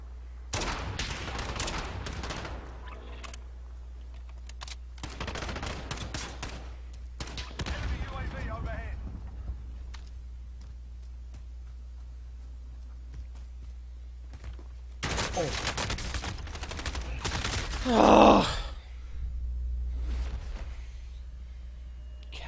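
Sniper shots and bursts of gunfire from Call of Duty Warzone come in sharp clusters early and again midway, with a louder crack near the end and quiet gaps between, while players talk over the action.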